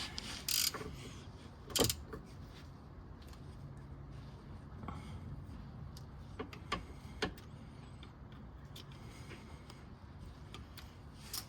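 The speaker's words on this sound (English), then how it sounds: "gonna throw the ratchet back on that" A hand ratchet tightening the differential drain or fill plug on a 2013 Subaru Outback, faint quick clicking bursts and a few sharp metallic knocks against low background hum.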